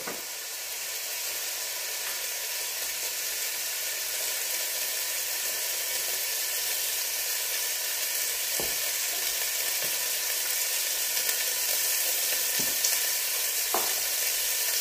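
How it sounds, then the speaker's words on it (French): Pork sizzles in hot oil in a pan, a dense, loud, steady frying hiss that continues throughout, with a few faint utensil clicks and no talk. "On va mettre à rôtir notre viande."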